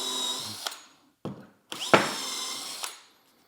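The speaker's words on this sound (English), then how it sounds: "This is the UJK reaming tool. You just put it in a drill" A UJK reaming tool spins in a power drill to ream and clear glue residue from holes, heard as a few short whirring bursts separated by brief pauses, close and moderately loud.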